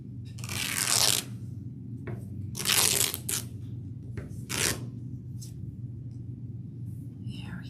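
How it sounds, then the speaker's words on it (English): Cotton t-shirt fabric is torn by hand into strips for a DIY dog toy, making three or four loud, close ripping bursts with quieter gaps between them. "This one's ripping pretty well though."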